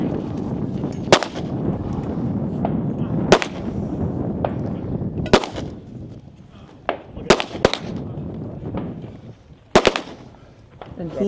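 Sharp pistol shots ring out on an outdoor competition shooting stage, about eight cracks spaced irregularly over several seconds, loud and close, with a spoken voice under the crowd and wind noise.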